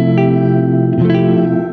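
An electric guitar rings through a Catalinbread Cloak reverb pedal with the low pass filter turned fully up, a sustained chord blooming into a smooth wash, then a second strum swelling into the tail, loud and upfront.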